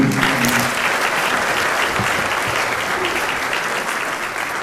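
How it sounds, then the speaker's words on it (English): Audience applause at a 2010 small-town queen pageant, a sustained, loud wall of clapping from a large crowd that holds steady and eases slightly toward the end. "That is the hardest job of the day, so a round of applause for Beth Couture, too."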